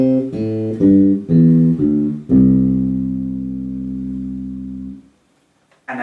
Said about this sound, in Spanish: La escala pentatónica mayor suena así.